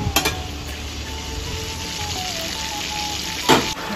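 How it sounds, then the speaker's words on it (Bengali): Chicken pieces frying in oil for chilli chicken hiss and crackle in a steady sizzle, with a thin tone running through it and a sharp knock of a utensil near the end. "চিকেনটাকে কিন্তু আমি ভালোভাবে ধৈর্য ধরে দেখো ভালোভাবে ভেজে নিয়েছি।"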